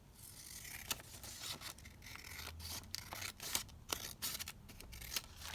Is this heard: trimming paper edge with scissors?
yes